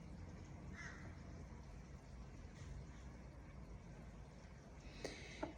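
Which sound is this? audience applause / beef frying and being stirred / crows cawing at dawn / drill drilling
crows cawing at dawn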